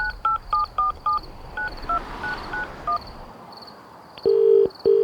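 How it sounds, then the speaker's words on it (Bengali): A mobile phone number is dialled as a sound effect: a quick run of keypad tones in short bursts, then a pause and two longer ringing tones, close and clear with no voices. "পকেট থেকে ফোন বের করে কাঁপা কাঁপা হাতে তার এক বন্ধুকে ফোন করল"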